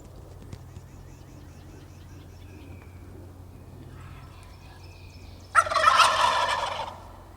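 A wild turkey lets out a loud rattling gobble in the distance after a stretch of quiet outdoor ambience with faint birdsong, in a recently logged forest area.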